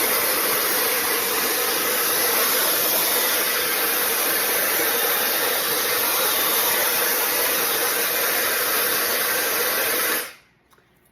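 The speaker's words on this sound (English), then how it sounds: "So this is gonna be on high heat, high power." Fanttik Solo AirWave hair styler blowing on high heat and high power, a loud, steady broadband whoosh held close for about ten seconds before it cuts off abruptly into near silence.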